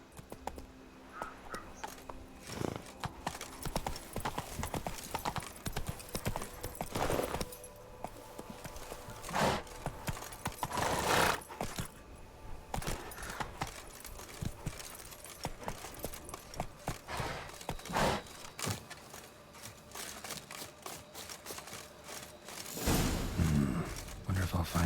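Hooves of Roach, a horse in a video game, clop in a quick galloping rhythm across a busy, noisy game soundscape with bursts of other effects, moderately loud.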